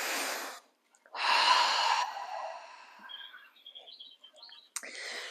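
Slow, deep breaths during a yoga breathing exercise: a long airy exhale, then a fuller breath with a rasping release, trailing into quiet, with a sharp inhale near the end, close and intimate.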